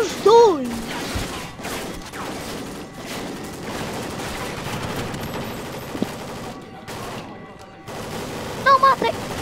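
Gunfire in the video game Call of Duty Ghosts, with repeated bursts and volleys of shots alongside game sounds while a player talks over the action.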